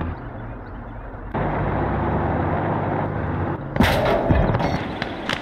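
An SU-122 self-propelled gun in the Gates of Hell war game: a low rumbling battlefield drone builds, then a single sharp, loud cannon blast erupts close by and rings out with crackling debris.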